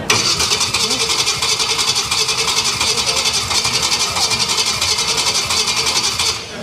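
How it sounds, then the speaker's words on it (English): An old car's engine at an outdoor car show cranks and keeps churning loudly and steadily for several seconds, a dense close rumble with people's voices mixed in. "They're going to start her up."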